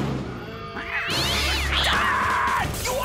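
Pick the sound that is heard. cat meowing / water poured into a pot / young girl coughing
cat meowing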